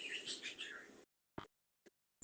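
A pet parakeet chirps in a bright warbling burst for about a second, then gives two short separate chirps after pauses, close and fairly faint in a quiet room.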